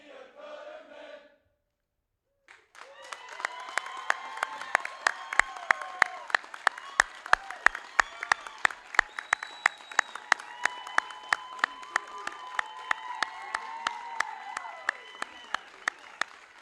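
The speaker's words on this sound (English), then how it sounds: "Would you guys please join me in a round of applause again for the graduates" A large audience at a Bosun's Mate A-School graduation claps steadily for the graduates, with dense sustained applause and a few sharp nearby claps standing out. A brief voice is heard just before the clapping starts.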